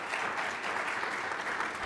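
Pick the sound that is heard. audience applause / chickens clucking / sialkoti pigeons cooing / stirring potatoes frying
audience applause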